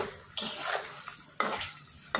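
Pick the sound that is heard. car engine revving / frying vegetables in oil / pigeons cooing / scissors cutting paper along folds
frying vegetables in oil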